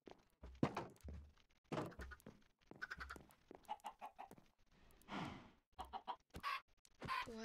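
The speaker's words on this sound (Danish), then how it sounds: "Hvorfor kom der så mange kyllinger ud?" Minecraft chickens cluck repeatedly in quick, uneven bursts alongside blocky thunks and game effects, many birds spawning at once, loud and close.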